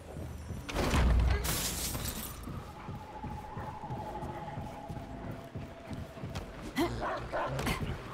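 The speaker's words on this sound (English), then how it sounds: "Get a little bit more survivability out of my dog." A companion dog barking in the video game Remnant 2: a few loud woofs and yips over busy game noise with crashes and a shattering burst, with a voice talking now and then.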